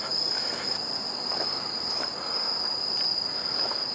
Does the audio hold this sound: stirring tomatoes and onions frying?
no